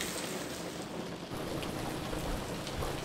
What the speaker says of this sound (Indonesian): Sudah kita lihat ini hujan sangat lumayan besar